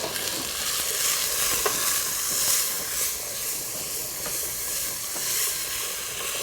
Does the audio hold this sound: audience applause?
no